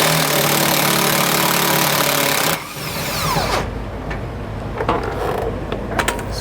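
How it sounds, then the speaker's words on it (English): A power impact tool spins a nut off a trailer leaf-spring equalizer bolt on a 2022 Grand Design Imagine travel trailer: a long steady whir that cuts off, followed by quieter metallic clicks and tool handling. "So we're taking the nut off,"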